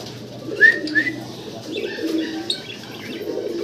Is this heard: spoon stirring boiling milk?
no